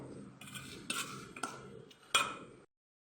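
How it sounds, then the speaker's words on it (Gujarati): A spoon stirs a millet mixture seasoned with garam masala, salt and crushed roasted peanuts in a bowl, giving close scraping and several sharp metallic clinks in an uneven rhythm, with no talking. "મિક્સ કરી લેશું સરખું"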